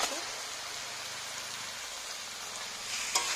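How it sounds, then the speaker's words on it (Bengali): Chicken frying with spices in a pan gives a steady, moderate sizzle throughout, with a brief sharper crackle or stir near the end. "চিকেনটাকে এর সঙ্গে ভালো করে একটু ভাজা ভাজা করে নেবো এই মশলাটার সাথে"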